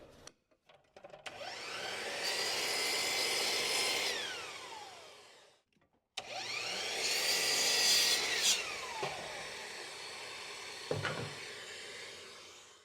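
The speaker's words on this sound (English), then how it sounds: "Over at the miter saw, we're going to cut these cleats to length." A miter saw trimming wooden cleats to length in two close, loud cuts: each begins with the motor whining up, holds a harsh buzzing cut through the wood, then winds down, with clunks and a brief pause between.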